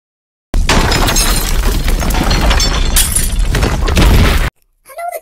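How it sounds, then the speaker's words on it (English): A mirror is smashed and glass shatters in a loud, sustained crashing burst lasting about four seconds, close and harsh, then cuts off abruptly, followed by a brief faint sound. "But then I smashed a mirror."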